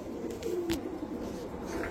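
Giribaz pigeons cooing close by, a soft low throaty coo rising and settling over a quiet background with a faint brief knock.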